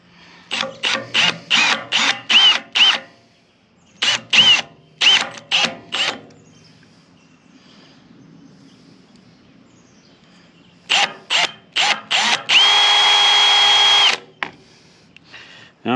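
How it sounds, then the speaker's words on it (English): A power drill whirs in short repeated bursts drilling holes for a trailer winch mount, pausing, then several more quick pulses followed by a longer sustained high-pitched spin. "So first off, let's drill these holes."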